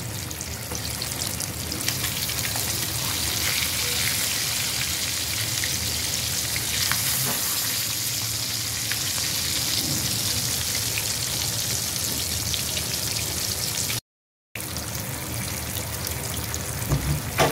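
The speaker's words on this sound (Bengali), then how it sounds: "মাছের এক পাশ খুব ভালো করে ভাজা হয়ে গিয়েছে, এখন আমি উল্টে নেব।" Fish fries in a pan, a dense, constant sizzle and crackle running unbroken at close range with no voices.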